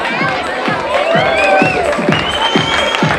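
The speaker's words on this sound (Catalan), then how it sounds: "un aplaudiment de despedida" Carnival ball crowd gives a farewell round of applause, dense clapping with cheers and shouts from a lively hall, loud and continuous throughout.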